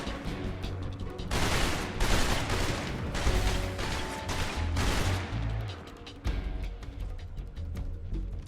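Gunfire in Metal Gear Solid Delta: Snake Eater, with rapid volleys of shots and booms in dense bursts, loud and close, easing briefly before resuming.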